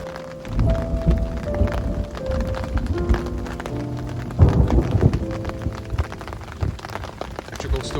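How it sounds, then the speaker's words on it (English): Heavy rain pours on a riverbank along the River Ribble during an electrical storm, a constant hiss with low rumbles of thunder and clattering thuds close by. "still this thunderstorm has not blown over"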